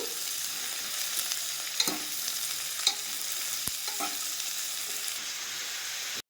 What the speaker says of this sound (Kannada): ಕಟ್ ಮಾಡಿರುವಂತಹ ಕ್ಯಾರೆಟನ್ನು ಹಾಕ್ಕೊತಾ ಇದ್ದೀನಿ. ಹಾಗೆ ಕಟ್ ಮಾಡಿರುವಂತಹ ಬೀನ್ಸನ್ನು ಕೂಡ ಇವಾಗಲೇ ಸೇರಿಸ್ಕೊಳ್ತಿದ್ದೀನಿ.